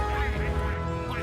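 Ducks from a flock quacking in a noisy, honking chorus, loud and continuous for a brief moment.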